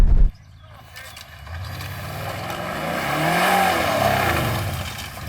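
A V8 engine drained of its oil, BMW against Lexus in a durability test, drones in a loud, steady rev with the pitch slowly rising and falling, starting after a brief clipped burst, close and without speech.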